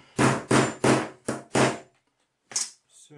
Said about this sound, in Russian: Пробили отверстие кожи.